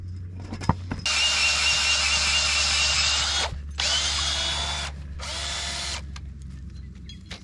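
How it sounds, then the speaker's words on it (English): A power drill boring holes for gate gudgeons on a farm fence gate, running in three sustained whining bursts with short pauses between them, close and loud over a low background hum. "We'll take the gate off and drill them properly."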